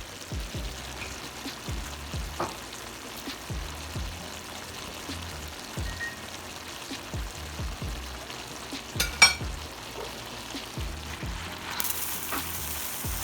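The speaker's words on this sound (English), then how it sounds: "So now we're just going to go ahead and add our noodles." Pancit noodles dropped into a pot of simmering chicken and vegetables, a quiet steady sizzle and bubbling with soft scattered clicks and stirring knocks, one sharper clatter near the end.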